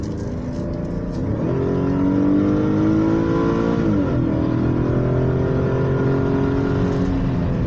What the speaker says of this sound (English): right now I'm actually driving the 2017 Chevy Equinox